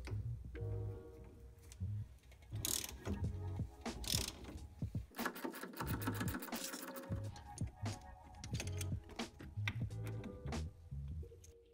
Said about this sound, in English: But I have this old steering wheel puller.